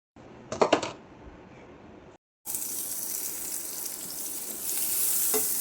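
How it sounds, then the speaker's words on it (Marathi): Butter in a pan on a gas stove, a few sharp clattering knocks, a brief silence, then a steady close sizzle that grows slightly louder toward the end, with no talking. "परत गॅसवर तोच पॅन ठेवून त्याच्यामध्ये बटर घालून घेतले"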